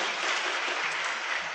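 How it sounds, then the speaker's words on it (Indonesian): Audience applause at an indoor gathering, a dense, even wash of many hands clapping together, loud and continuous from start to finish with no voices over it. "Tepuk tangan buat Bapak Ibu semua."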